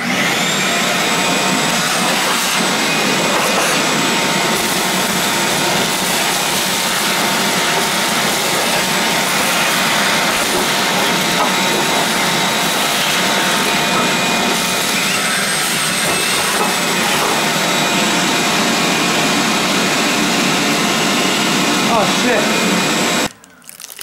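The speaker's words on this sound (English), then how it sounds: "Vacuum cleaner again." A vacuum cleaner runs close and loud in a workshop, a constant high-pitched whine and airflow roar that holds steady for about twenty seconds before cutting off abruptly at the end.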